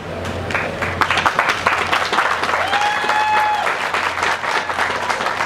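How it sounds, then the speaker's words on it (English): Outdoor audience at a sea goddess coronation during a lobster festival in Maine applauding, a loud, sustained crowd clap with faint cheering and a brief whistle-like tone partway through. "And let's all give another round of applause to Dan Bookham, our Master of Ceremonies."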